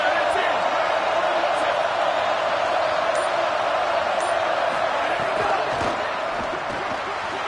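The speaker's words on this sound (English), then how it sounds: "Listen to this crowd just shaking the girders of this place trying to help their defense." A dense, roaring stadium crowd in the College Football 27 video game fills the air with a steady, loud wash of cheering behind the play, with scattered bursts rising above it.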